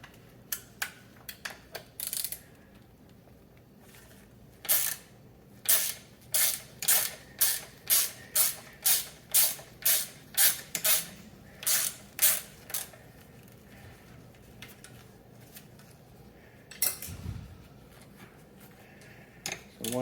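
Two 4mm hex Allen wrenches loosen bolts on either side of an EVOLV Pro electric scooter's suspension, giving a rapid run of sharp ratcheting clicks and creaks, close and fairly loud, with scattered clicks before and after.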